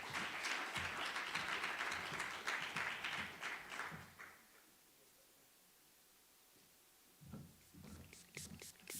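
Moderate audience applause at a June 16 Youth Commemoration event for several seconds as the main speaker comes up, fading into near silence, then a brief renewed burst of clapping.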